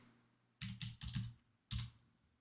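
Four or five quick clusters of keystrokes on a computer keyboard, entering a strike price, close and clear against a quiet background with no talking.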